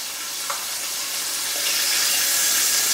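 Water drops flicked into hot frying oil crackle and spit in a steady sizzling hiss that swells slightly toward the end, with no talking.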